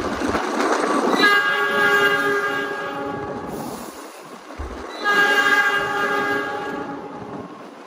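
Steady rumble and rattle inside a moving Malabar business-class passenger train in Indonesia, with a long horn sounding twice, swelling and fading, and no voices.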